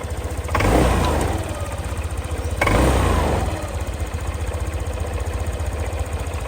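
A used Lexmoto motorbike with 14,300 miles idles steadily with a mid-pitched engine note. It rises briefly twice when the throttle is blipped, then settles back to a continuous, close idle.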